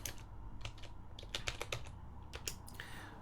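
Keys on a computer keyboard tap out a command in quick bursts of distinct clicks, close up and clear, with short pauses between groups and no speech.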